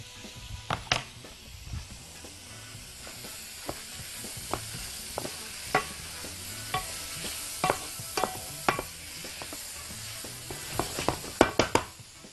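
Hot green peppers tossed into a pan of liver and onions and stirred, a low steady sizzle under sharp intermittent scrapes and clacks of the utensil, close and fairly quiet, no voices.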